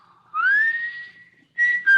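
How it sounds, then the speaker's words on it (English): A man whistles from out in an orchard, a clear rising note held steady, a short pause, then two more bright whistled tones, alone in quiet surroundings. "you could stand in the orchard until you heard him whistle"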